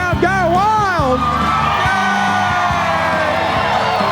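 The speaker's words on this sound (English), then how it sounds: "listen to that crowd go wild" A country music festival crowd at Tamworth cheers wildly during a live radio show, loud sustained whoops, yells and roaring cheers with a voice shouting excitedly over the din.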